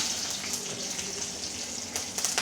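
Fenugreek seeds and green chillies fry in oil for hotel-style sambar, a steady hissing sizzle dotted with small pops and crackles, close and fairly quiet throughout.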